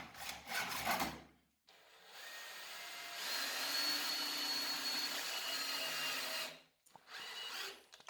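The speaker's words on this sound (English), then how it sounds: "I cut the T-track. First slow and careful, and then going absolutely wild with my dull saw blade" A woodworking saw with a dull blade cuts through T-track. The harsh, grinding whine runs steady for several seconds, framed by shorter bursts of cutting and brief pauses.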